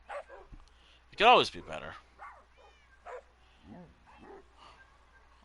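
A small puppy barks and yips in short, high bursts with one louder yelp, while a person speaks casually nearby.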